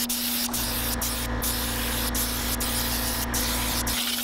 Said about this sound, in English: Pearl white. I need to remember what I'm spraying right now.